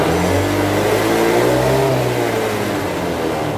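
A Honda Beat FI ESP scooter engine, which has a fault of stalling and sputtering with a blinking MIL light, is revved with the throttle. The engine sound is loud and close, with a steady rising and falling whine and no talking.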